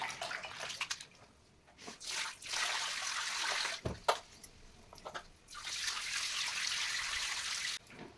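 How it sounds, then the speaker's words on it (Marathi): Water drained off rinsed potato slices for wafers, splashing and trickling in bursts with short pauses between pours, close and fairly faint. "आता हे पाणी मी काढून घेणार आहे"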